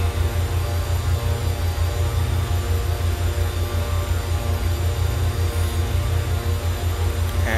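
Steady drone of a simulated Beech Duke BE60's twin piston engines in the FSX flight simulator, a constant loud hum with strong low harmonics and no pauses, no talking over it.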